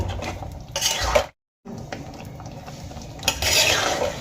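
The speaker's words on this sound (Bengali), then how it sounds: "এবার খুব ভালো করে ভেজে রাখা সবজিগুলো মিশিয়ে দেব" A utensil scrapes and clatters against a pan as fried vegetables are stirred for shukto, with a brief silent gap midway, no voices.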